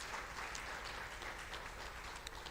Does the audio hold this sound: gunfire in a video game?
no